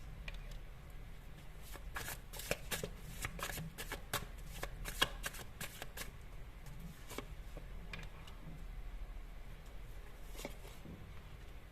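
Tarot cards being shuffled and handled, a steady run of soft papery riffles and flicks with sharper snaps throughout, close and fairly quiet, with no voices.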